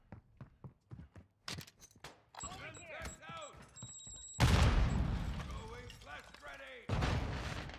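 Gunfire in a Call of Duty video game: a string of sharp, separate shots at first, then loud, dense bursts of firing and impacts, with other game sounds and a voice mixed in.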